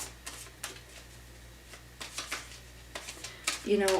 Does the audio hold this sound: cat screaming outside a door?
no